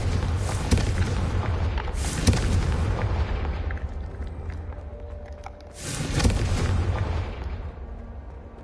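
A Confringo explosion spell cast in Hogwarts Legacy, heavy booming blasts over a dense rumbling roar, with a sharp burst near the start and another later, loud and sustained throughout.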